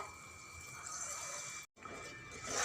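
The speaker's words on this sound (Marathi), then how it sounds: "आता थोडंसं पाणी टाकते मी मिक्सरच्या भांड्याचं बघा" A thin stream of water pours steadily into a mixer jar, briefly stops, then resumes; quiet and close, with no voices.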